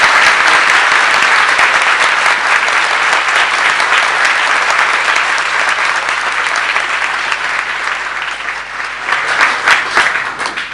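A large audience claps loudly and continuously in a packed hall, a dense roar of hands that holds strong and then thins slightly toward the end.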